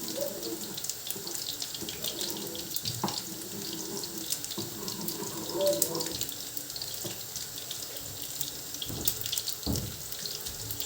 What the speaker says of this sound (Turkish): Biraz da su ekleyeceğim.